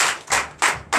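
A church congregation claps in unison at a Sunday worship service in Comè, Benin. Loud, full-room applause comes in three or four rhythmic bursts about a third of a second apart, with no speech.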